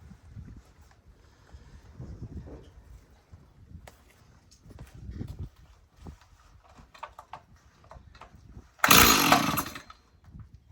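A 1985 Stihl 026 Farm Boss chainsaw, choke on, is pulled for a cold start: several scattered rope pulls and sputters, then near the end it catches with a sudden loud, rasping burst of engine noise.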